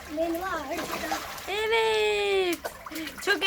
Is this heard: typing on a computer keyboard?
no